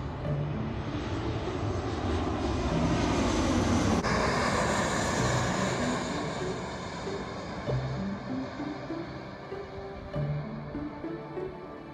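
A plane passing low and close overhead near Hakodate airport, heard from an open-air rooftop hot spring bath at Yunokawa Onsen: a loud, roaring engine sweep that peaks and then slowly fades.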